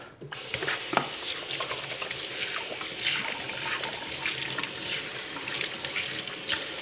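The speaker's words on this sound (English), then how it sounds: "Let me wash my hands." Hands are washed under a running tap at a kitchen sink, a steady splashing water stream with rubbing and small clatters nearby, fairly quiet and without talk.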